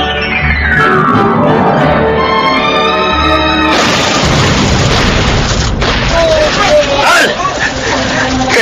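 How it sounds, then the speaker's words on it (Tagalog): Gunfire and explosions in a Filipino audio drama: heavy booms and bursts of shots roll continuously under shouting voices, loud and close, with a rising whistle-like tone before a big blast midway. "Kanina pa tayo nagpapalitan ng putok."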